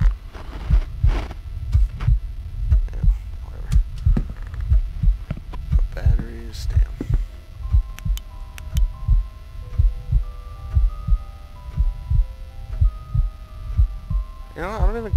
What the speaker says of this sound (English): that fucking constant heartbeat's gonna give me a headache